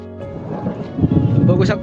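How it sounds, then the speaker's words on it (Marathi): Heavy rain pours down on a soybean farm at Bhandarwadi, a dense, loud roar that swells toward the end, with thunder-like rumbling and voices talking over it. "फुल पाऊस झालेला आहे आमच्याकडं"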